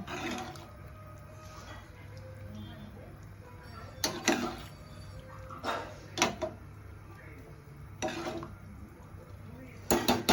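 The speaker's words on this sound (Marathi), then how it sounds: "आता ढवळून घेऊया।" Carrot halwa with a litre of milk being stirred in a pan, soft scraping and a few sharp spoon clinks against metal over a low simmering bubble, fairly quiet and close.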